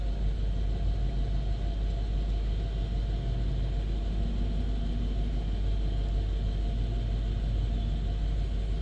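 A 2005 Mercedes-Benz SL500 engine runs steadily, a close, constant low rumbling drone with no change in pitch throughout.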